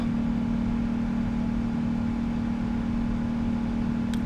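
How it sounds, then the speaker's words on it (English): PMDG 777-200ER jet engines in Microsoft Flight Simulator 2024 give off a constant, even whine and low hum at cruise, loud and unbroken, with no voices. "But I just love the sound of these engines."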